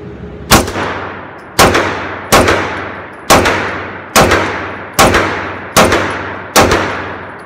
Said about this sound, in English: the first thing is eight rounds slow fire